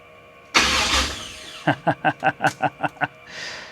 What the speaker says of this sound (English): And you want to see if she cranks now?